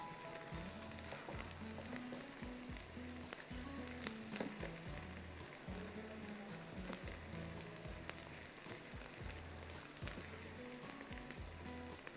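Onion, ginger and garlic frying in a pan, a steady close sizzle with occasional stirring scrapes running throughout, no voices.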